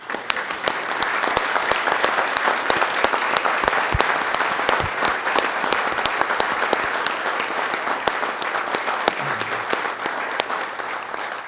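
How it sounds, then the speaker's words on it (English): Sustained applause from an audience at a Temecula city council meeting, dense steady clapping that fills the room from start to finish with no talk over it. "Let's give them a round of applause."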